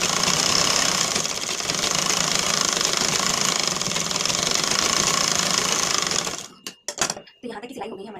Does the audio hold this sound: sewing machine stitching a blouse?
yes